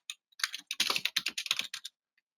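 Close, crisp typing on a computer keyboard: a quick burst of several dozen keystrokes in rapid irregular rhythm, with a couple of isolated taps at the start and end.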